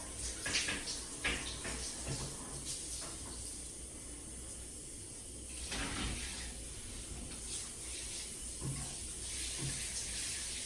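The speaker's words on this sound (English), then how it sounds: "just rinsing the shower," Water from a shower rinsing the walls and tiles of a moldy, neglected shower, a steady broad hiss with a few brief splashes and knocks, fairly close and continuous throughout.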